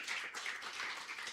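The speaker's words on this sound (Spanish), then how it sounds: "¿Qué tal si le da un aplauso al Señor por eso?" A Spanish-speaking church congregation claps in praise to the Lord during a sermon, a faint, brief patter of many hands, distant and soft.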